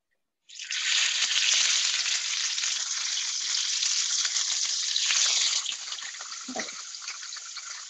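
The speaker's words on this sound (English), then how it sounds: "And when you're frying, your pan's on pretty high heat?" Fish frying in a pan over medium heat, a loud, close, steady sizzle that starts abruptly and holds, then eases slightly with a brief clink near the end, with no talking.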